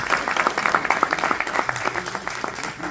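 An audience at a film premiere claps in a moderate, fairly even burst of applause, with individual claps audible and a faint voice or two in the background.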